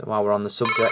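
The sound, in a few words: phone ringing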